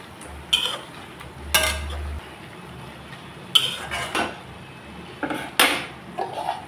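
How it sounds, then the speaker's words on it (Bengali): Vegetables, drumsticks and spices in a pot for sajne chorchori, with a handful of sharp clanks and scrapes as a utensil stirs against the metal, then a lid set down, close and intermittent with quiet gaps, no talking. "এখন ভালো করে নাড়াচাড়া করে আবার ঢেকে দেব।"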